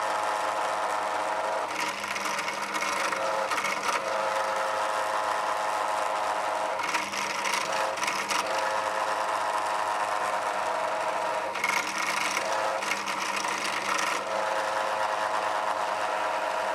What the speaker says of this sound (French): je vais percer avec un gros forêt pour que la tête de vis puisse passer dans le manche